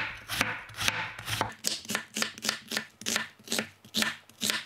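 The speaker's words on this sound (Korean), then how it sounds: "그래서 제가 양파를 썰어주려고요" A knife chops an onion on a board in a fast, even rhythm of crisp, close thuds, a dozen or more cuts in quick succession.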